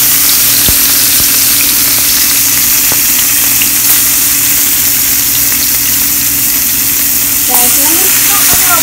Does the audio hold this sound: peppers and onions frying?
yes